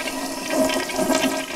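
A toilet flushing in a sewer-monitoring context, a steady close rush of water lasting the whole moment without voices.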